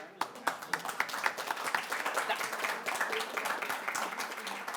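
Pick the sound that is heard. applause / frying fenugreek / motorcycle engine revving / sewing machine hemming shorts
applause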